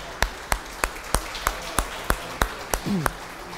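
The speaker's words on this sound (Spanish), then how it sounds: "Dale un mejor aplauso al Señor." A church congregation claps in unison during a sermon, giving about a dozen crisp, evenly timed claps in a steady rhythm, with a brief vocal sound near the end.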